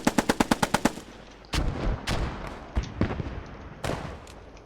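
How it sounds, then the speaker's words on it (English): Machine gun fire in a World War II–style multiplayer video game: a rapid burst of about eight loud, close shots, followed by scattered heavier gunfire and explosion-like booms echoing at varying distances. "Our MG's taking care of the main bridge, Virgil."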